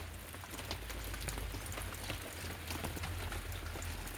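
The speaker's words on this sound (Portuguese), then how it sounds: "Fica tudo na chuva, os cactos, as suculentas." Rain falls steadily on outdoor succulents and cacti, a dense, even patter of drops with faint individual taps, moderately quiet and without voices.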